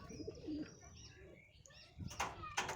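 Madras high flyer pigeons cooing softly in a loft, with faint rustling and brief wing movement in the background, nearby and fairly quiet.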